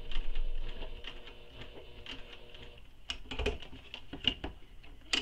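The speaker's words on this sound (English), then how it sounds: "I'm going to stitch right across that mark" A sewing machine stitches straight across a tote bag's fabric in quick, even mechanical clatter, with short pauses and restarts as the seam runs over earlier stitches.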